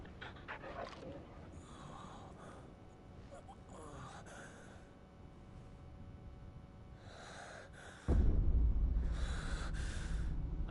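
A dog in Final Fantasy XVI pants and snorts in quick, breathy bursts, close and fairly soft, with game sounds and a heavier low thud entering near the end.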